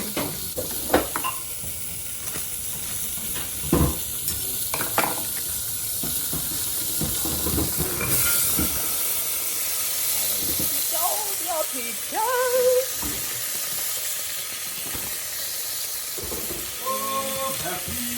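A tablespoon of butter sizzles in a pan for peach cobbler, a steady hiss with some clatter and stirring, and a voice speaking near the end.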